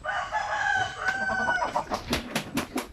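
Native chickens on a Philippine poultry farm cluck and call close by, with a rooster's crow early on, followed by a run of sharp, rhythmic clucks toward the end.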